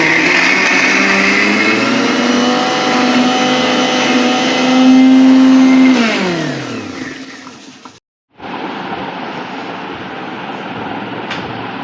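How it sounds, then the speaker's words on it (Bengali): Kitchen blender grinding shrimp with onion, garlic, dried chili and coriander leaves, a loud steady whirring motor that holds for several seconds, then winds down and stops, followed by a quieter room background. "তারপর দিলাম পেঁয়াজ, রসুন, শুকনো মরিচ, ধনিয়া পাতা দিয়ে এখন আমি এটার ব্লেন্ডার করব।"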